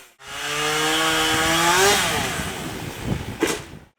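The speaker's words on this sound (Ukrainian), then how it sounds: "За допомогою пилок двоє комунальників спилюють берести та грушу у Полтаві." A chainsaw cutting an elm or pear tree in a city street runs loud and steady, its engine pitch rising while it revs, then it roughens and sputters near the end as the cut finishes.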